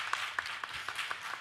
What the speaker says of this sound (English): I'm gonna clap for my person